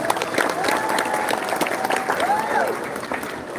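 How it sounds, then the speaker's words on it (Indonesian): An audience claps and cheers for the finalists at a school pageant grand final, Bujang Gadis at SMA Negeri 11 Palembang. The crowd applause is dense and sustained, with an amplified voice speaking over it. "boleh beri kita tepuk tangan yang paling meriah."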